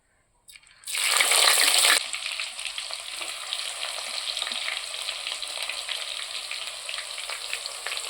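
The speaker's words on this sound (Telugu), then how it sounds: "నూనె కాగింది జీలకర్ర మెంతులు వేస్తున్నా మెంతులు జీలకర్ర ఎర్రగా కాగిపోయినాయి తరుగు పెట్టుకున్న ఎర్రగడ్డ ముక్కలు వేస్తున్నా" Chopped onions dropped into hot oil with cumin and fenugreek seeds, cooking for a small fish curry, hit with a loud burst of sizzling, then settle into a steady, even frying hiss.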